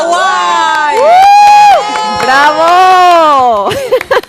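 Audience at a Paraguayan association event cheering and whooping, loud voices shouting together close by, with a brief spatter of claps near the end.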